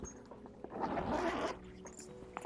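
A zipper pulls open a pocket on a Bagsmart Blast Pro 40L travel backpack in one steady, close, scratchy run of about a second, with quiet rustling before and after.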